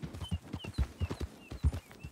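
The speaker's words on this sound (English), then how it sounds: "I got a tired horse here" Horse hooves clip-clopping at a steady walking pace in the western video game Red Dead Redemption 2, soft and close, with regular rhythmic thuds.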